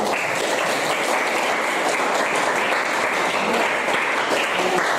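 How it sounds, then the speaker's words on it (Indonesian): Steady applause from a class of students after group presentations in a teacher-training lesson, dense and continuous throughout, with no talk over it. "sekali lagi tepuk tanganlah untuk semua"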